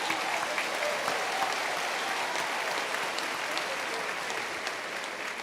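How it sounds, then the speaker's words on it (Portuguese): Congregation applause during a sermon, a steady wash of many hands clapping together, sustained and even for the whole stretch with no voices over it. "Pode aplaudir."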